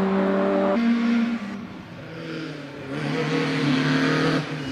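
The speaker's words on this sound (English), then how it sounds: "Here's the Peugeot." A Peugeot race car on the Prescott hill climb course roars close by, its engine climbing in pitch through quick gear changes, easing through a bend and pulling hard again.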